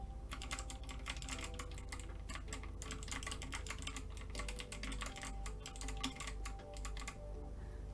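Noisy, clicky mechanical keyboard keys are struck in a quick, even patter for several seconds, heard close and alone over a faint low hum.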